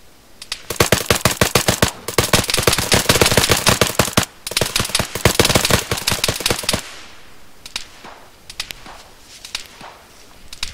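Rapid bursts of automatic gunfire crack out close and loud in a military video game set in Tora Bora, long sustained strings of shots broken by brief pauses, then tapering into sparser scattered single shots.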